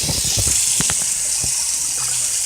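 Tap water gushes steadily while rice is rinsed in a pot for a spinach, eggplant and chicken dish, with a few soft knocks and clatters near the start.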